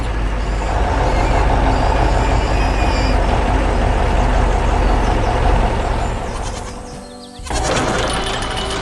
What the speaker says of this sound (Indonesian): Truk putih sedang melintasi medan yang keras.